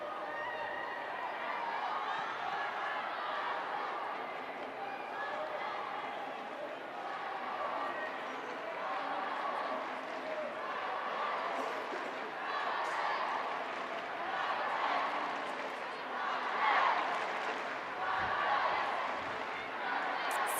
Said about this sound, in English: And that is something for the home crowd to cheer about